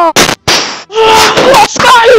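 Weapons fire in a World War One battle, rendered as a few loud sharp bursts at the start followed by a dense, sustained roar with a shouted voice over it.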